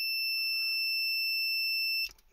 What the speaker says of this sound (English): we shouldn't get a beep, but we will.